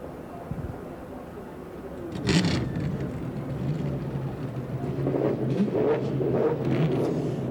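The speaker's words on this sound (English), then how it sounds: "those racing engines must now scream for the next 10 hours" Racing car engines starting and idling on the grid at the Petit Le Mans sports car race, a rumbling mass of engines swelling after a few seconds and growing louder, heard at a distance with crowd ambience.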